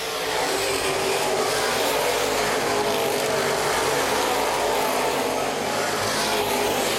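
Open-wheel modified race cars on the final lap at Baer Field Speedway, a loud, steady roar of many engines held under full throttle through the turns, continuous and close, with no talking.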